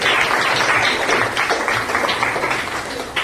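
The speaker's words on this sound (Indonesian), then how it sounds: "ayo beri tepuk tangan dulu." A classroom of students at a junior high school claps for a classmate, a dense, steady patter of many hands that keeps up at an even level for several seconds without anyone speaking.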